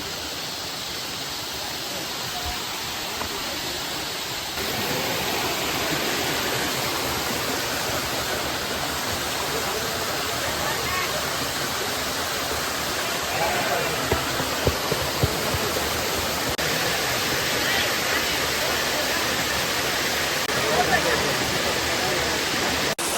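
A waterfall on the Agasthyarkoodam trek in South India gives a steady, loud, broadband roar of falling water that fills the whole stretch, near and continuous and unbroken by voices.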